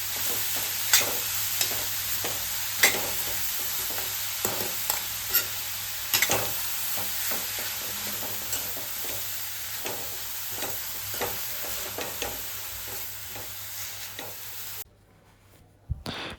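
Grated carrot with ghee is stirred in a pan for gajar halwa, a soft continuous sizzle punctuated by repeated scraping and tapping strokes of a spoon, ending in near silence with a final clink.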